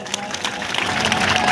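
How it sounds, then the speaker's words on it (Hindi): Audience applause at a religious discourse, a dense wash of clapping from a crowd that swells steadily louder over a brief moment, with some voices mixed in. "उसके लिए सभी को जोरदार तालियां एक बार"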